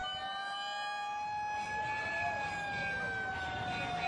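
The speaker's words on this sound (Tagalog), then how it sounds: "kasama mga fire truck na nagpatunog ng kanilang sirena" Fire truck sirens wail across Manila streets on New Year's Eve, several overlapping tones sweeping slowly up and down, fairly loud and continuous over a low traffic rumble.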